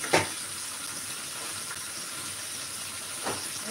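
Vegetables boil in a pot on a stove, giving a soft steady hiss and bubbling with a couple of brief louder clinks or splashes, quiet and close, with no voices.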